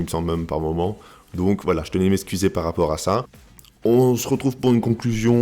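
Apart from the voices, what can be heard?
No distinct noise like a dog, phone or traffic.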